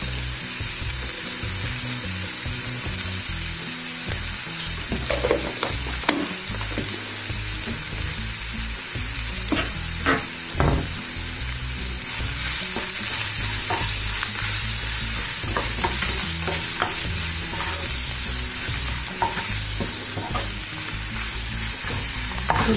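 Onions frying in oil with asafoetida and salt in a pan for buttermilk soup, a steady loud sizzle with frequent spatula stirs and scrapes running throughout, close and without talk.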